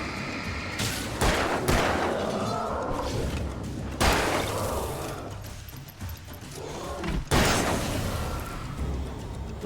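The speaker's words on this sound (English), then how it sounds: "Oh, I found a shotgun. I better take it." Shotgun blasts in the video game Alan Wake, three heavy booming shots spaced a few seconds apart over a dense rumbling game soundscape.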